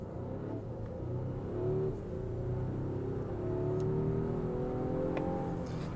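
A Volvo XC60 Recharge Polestar Engineered plug-in hybrid accelerates hard from standstill toward 100 km/h, a steady rising engine and drivetrain whir heard from inside the cabin, with no one speaking.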